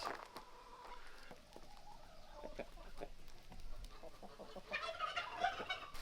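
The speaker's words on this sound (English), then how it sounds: "Sorry about all the crowing." Rooster and other backyard chickens crowing and clucking outdoors in a garden, the calls moderately close, rising louder and busier toward the end over steady ambient noise.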